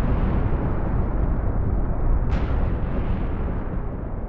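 A small volcanic eruption at Mount Oakan is rendered as a sound effect: a dense, continuous rumbling roar with one brief burst partway through.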